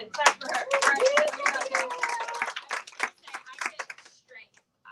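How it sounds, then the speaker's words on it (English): An audience claps for a woman at a church gathering, with hand claps loud and dense at first and then thinning into scattered claps, while voices call out over them. "Clap for her."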